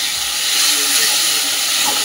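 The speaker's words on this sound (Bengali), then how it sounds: "এখন একটুখানি জল দিয়ে কষাচ্ছি" Mutton sizzles and hisses in a pan with a little water, a steady bright bubbling hiss that stays close and even throughout, no talking.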